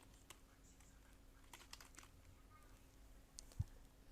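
Typing on a computer keyboard, with a few scattered soft key taps and one sharper keystroke near the end, faint over a low steady hum.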